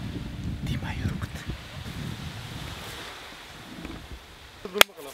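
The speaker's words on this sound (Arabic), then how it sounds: "كاين الريح في هذا المكان اللي رانا به" Wind gusts outdoors at an open-air campfire spot, rumbling into the microphone loudest at first and then easing to a softer rush, with a sharp click near the end.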